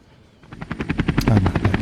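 A police helicopter in a movie chase scene fades in, its rotor chopping in a rapid rhythmic beat that grows louder and nearer, with no talk.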